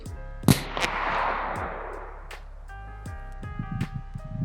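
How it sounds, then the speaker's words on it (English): A .22LR rifle fires at a target while shooting for groups: a sharp nearby shot followed by a long fading ring, then further softer clicks and clanks of handling, with no talking. "We're shooting for groups."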